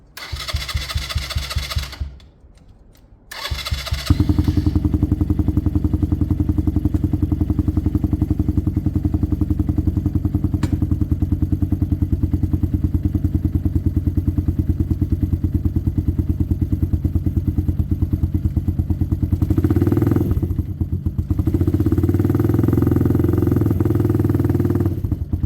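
A motorcycle engine on choke cranks, fires up after a brief pause and settles into a loud, steady idle with a continuous low chug, dipping briefly near the end before resuming.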